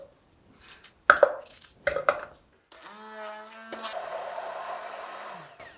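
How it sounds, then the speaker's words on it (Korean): A blender grinding half a pear, preceded by a few clunks and knocks as it is set up, then a steady whirring motor drone that rises in pitch and runs for a few seconds. "먼저 배 반 개를 갈아서 넣어줄 건데요"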